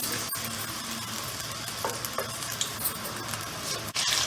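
Ginger garlic paste sizzles in hot oil for a chicken curry, giving a steady, dense crackling hiss with faint utensil scrapes and a couple of clinks, close up and with no voices.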